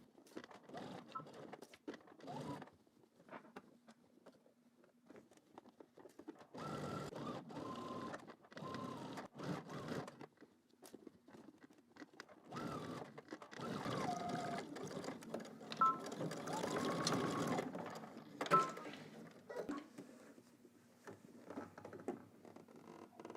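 A sewing machine runs in bursts, stitching in the ditch along a folded collar edge, with short starts and stops and faint handling noise between runs; no one speaks.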